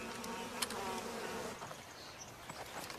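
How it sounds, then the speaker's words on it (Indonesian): Wasps swarm and buzz around their nest in a film scene, a dense droning whine that swells and fades with a few sharper passes close by, with no speech. "Selanjutnya kita diperlihatkan bocah nakal Danny yang senang mengganggu-ganggu sarang tawon sebagai mainannya."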